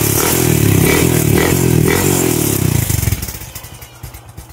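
A Honda XRM 125 motorcycle engine, just after carburetor cleaning, roars loudly up close, revving, then drops off and settles into an uneven, sputtering idle.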